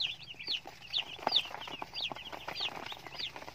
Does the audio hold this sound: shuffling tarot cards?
no